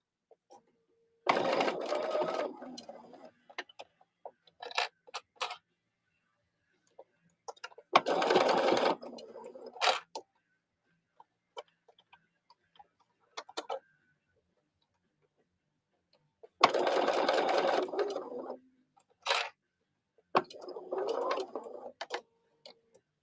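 A sewing machine stitches a pin cushion cuff in several short, fast bursts, separated by quiet pauses with faint clicks and handling sounds.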